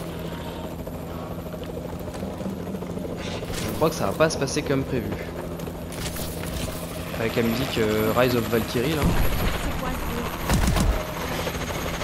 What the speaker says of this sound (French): Et normalement il y a un hélico qui est censé venir. Ah bah on l'entend.